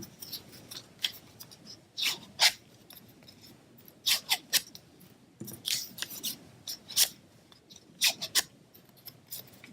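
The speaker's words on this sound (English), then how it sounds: "I'm just going to get my bone folder, and I'm just going to curl them a little bit" Paper strips being curled with a bone folder: short, crisp scraping swipes in quick irregular bursts, close and clear over a quiet background with no talking.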